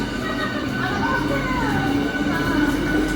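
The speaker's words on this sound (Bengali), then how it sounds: "এই যে এই ট্রেনটাতে এলাম" Commuter train at Bhadreswar station in West Bengal, a steady loud rumble with rolling wheels and faint squeals filling the whole stretch, voices murmuring underneath.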